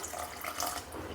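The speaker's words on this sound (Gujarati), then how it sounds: "બધું જ સરસ મિક્સ કરી દીધા પછી વધારે 1 કપ પાણી આપણે કુકરમાં ઉમેરશું" Water pours into a pressure cooker holding a mixed batch of grated potato and sago, a steady splashing, gurgling stream, close and fairly loud, heard alone without talk.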